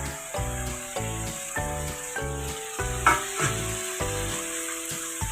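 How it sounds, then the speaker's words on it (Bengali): Potatoes added to spiced oil that has been cooked down until the oil separates, frying with a quiet, steady sizzle that sits under repeated tonal pulses. "এবার আমি আলুগুলো আগে এতে ছেড়ে দেবো।"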